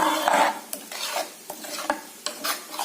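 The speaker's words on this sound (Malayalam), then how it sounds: "മാങ്ങക്കറിക്ക് കടുക് വറുത്തിട്ട്" Mustard seeds fry in hot oil as a tempering for mango curry, crackling and sizzling close by with several sharp pops and spoon scrapes spread through the short stretch, and no one speaks.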